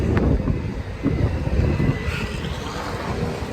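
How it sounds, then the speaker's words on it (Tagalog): Heavy wind ahead of a storm buffets the microphone in rough, low rumbling gusts, loud and continuous, with a faint engine-like drone in the background. "grabe ang lakas ng hangin"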